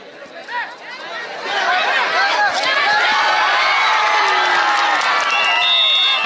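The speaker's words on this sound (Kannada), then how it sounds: "ಮತ್ತೊಂದು ಅಂಕದ ಸಂಪಾದನೆ ಚಪ್ಪಾಳೆ ಬರೀ ಪ್ರೇಕ್ಷಕರ ಜೋರ ಚಪ್ಪಾಳೆ" Spectators at a women's kabaddi final between Haryana and Karnataka (Chinchali) roar together, with dense chatter, shouts and whistles that swell after the first second and stay loud and sustained through the rest.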